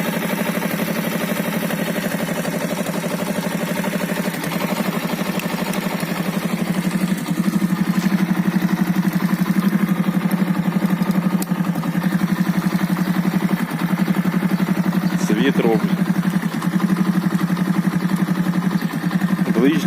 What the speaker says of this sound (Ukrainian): Запускається в принципі нормально мопед.